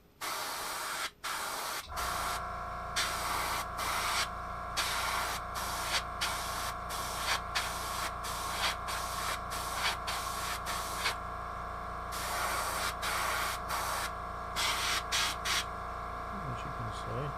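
Aerosol spray primer hisses in a series of short and longer bursts onto a scale model, with brief pauses between passes and a steady low hum underneath.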